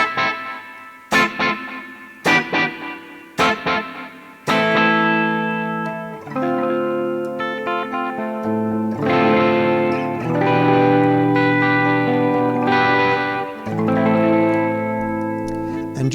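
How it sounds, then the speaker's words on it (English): Electric guitar run through the tape delay setting of a budget Flamma FX100 multi-effects unit: a few plucked notes with trailing repeats, then sustained chords whose warm echoes stack and smear into a continuous, reverberant wash, loud and alone. "It's a tape delay. I was going to say either a tape or an analog delay, but you definitely get that nice warm delay sound there."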